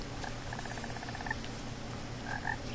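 A frog in What Remains of Edith Finch gives a rapid rattling trill followed by a couple of short croaks, close and clear over a low ambient hum.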